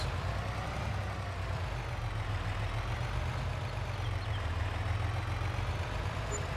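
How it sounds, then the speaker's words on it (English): A truck engine in Farming Simulator 22 pulls forward with a steady, loud low rumble and drone that holds evenly throughout, with no voices over it. "we'll move the truck forward, fill up the last"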